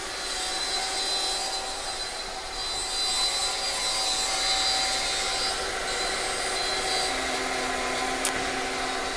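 A CNC router cutting the wooden center portion out of a project to final depth, a steady loud whining drone with a constant high hum, close and unbroken.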